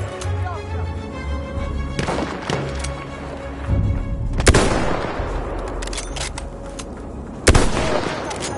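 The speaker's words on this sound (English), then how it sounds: "The enemy is being halted by our artillery barrage." An artillery barrage in the Battlefield 1 video game sounds as heavy booms and thuds at intervals over continuous rumbling battle noise, with a few sharp blasts standing out near and loud.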